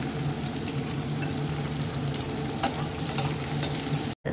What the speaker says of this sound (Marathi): शिमला मिरची हे फ्राय झाल्यावरच आपल्याला त्याच्यात टोमॅटो टाकायचे फ्राय हो द्यायचं चांगलं